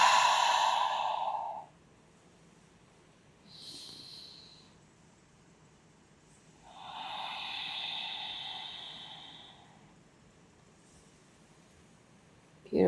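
Slow, deep breathing during a gentle vinyasa yoga flow: a long exhale, a short soft inhale, then another long drawn-out breath, each airy and close with quiet pauses between.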